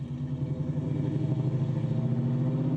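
A restored 1968 Ford Mustang Shelby GT500 with its engine enlarged from 6.4 to 7.1 litres drones steadily on a test drive, a deep, pulsing V8 rumble held at a constant pace, loud and close throughout.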